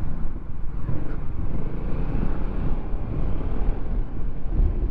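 Yamaha XMax 250 scooter riding through city streets past a pedestrian path, a steady low engine drone with wind buffeting the microphone throughout.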